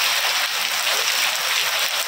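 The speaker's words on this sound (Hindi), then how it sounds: "बहुत तेज बारिश आ रही है" Heavy rain pours steadily, a dense, continuous hiss of water striking surfaces close by, with no voices.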